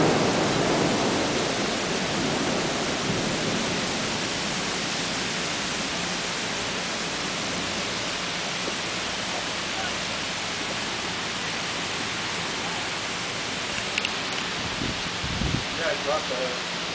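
A brief summer rain downpour in Quincy pours down as a dense, steady hiss that runs throughout, loud and close, with a few faint knocks and rustles near the end.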